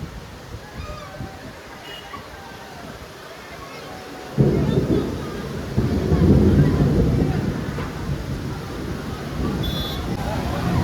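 Thunder rumbles during heavy monsoon rain over a flooded village street in Pasodara, a deep low roll building partway through and swelling loud over steady rain and wind noise.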